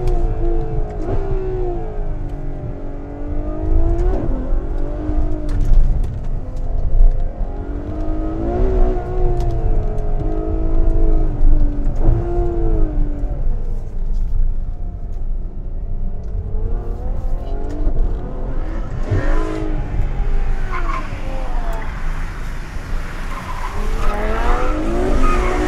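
Ferrari F12 Berlinetta running flat-out at full throttle: a loud, close engine wail climbs and drops repeatedly through rapid gear shifts, with road and wind roar underneath.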